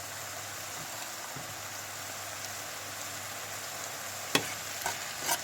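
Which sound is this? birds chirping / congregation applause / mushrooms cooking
mushrooms cooking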